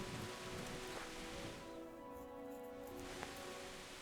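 Steady rain falls in the medieval video game Kingdom Come: Deliverance, a constant wash of downpour with scattered drops hitting surfaces and a soft low rumble beneath, while a tonal hum sits under it.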